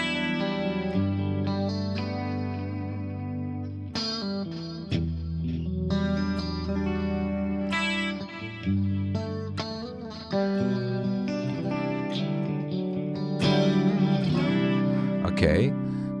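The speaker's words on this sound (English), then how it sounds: "To get this, I use the compressor, I use the chorus, the 4-voice, I love this chorus, and also the delay." Clean electric guitar through a Mesa Mark IV amp preset with compressor, four-voice chorus and delay, playing a slow ballad passage of sustained chords and single notes, shimmering and echoing throughout, loud and close with no talk.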